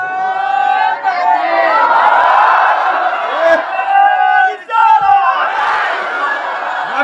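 A large crowd at an Islamic religious gathering loudly shouts a takbir in unison, two big roaring waves of voices with a short lull between them.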